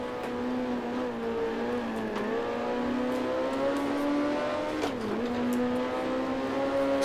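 A Cooper race car engine in Grand Prix Legends revs loudly and steadily, its harmonic whine rising and dipping through gear changes, with a sharp drop and recovery near the end.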